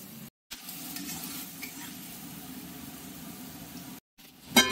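Chopped tomato hits hot oil and spices in a pan, giving a soft, steady sizzle with a brief clatter near the end, fairly quiet and with no talking.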